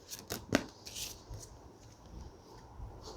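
Tarot cards are shuffled close by in a quiet room, with a few quick papery riffles and soft rubbing, the sharpest burst coming early before the sound fades to faint handling.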